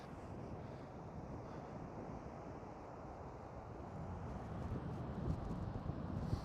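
Waves and wind on a very large beach at Dunkirk, with a steady broad wash of surf and gusty wind noise on the microphone that builds slightly toward the end.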